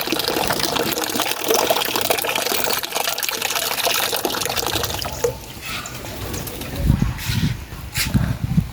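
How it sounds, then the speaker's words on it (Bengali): Water pours and splashes steadily for pigeons, with birds shuffling and cooing nearby and some bumps toward the end. "তারপর আমি আমার কবুতরকে পানি দিয়ে দিলাম।"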